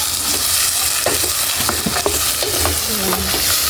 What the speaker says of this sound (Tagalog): At igisa na rin natin yung patula, mga idol. Ayan po. Haluin po natin.